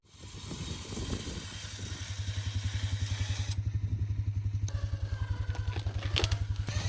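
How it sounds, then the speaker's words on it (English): ATV engine running close by as its winch pulls a rotted tree stump from the ground, a steady pulsing motor drone that grows louder and heavier under load, with some clattering and creaking near the end. "So I'm going to give this a go with the winch on the ATV."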